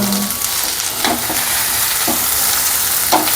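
Yam roast frying in oil in a pan, a steady sizzle with several brief scraping stirs of the spoon at regular intervals.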